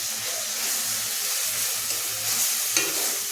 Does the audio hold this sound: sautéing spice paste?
yes